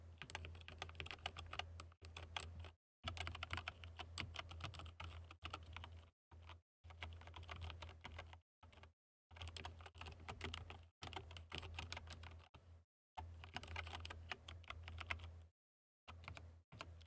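Close-up typing on a SteelSeries Apex Pro gaming keyboard, with rapid clustered key clacks coming in bursts that are separated by brief silent pauses, over a faint low hum.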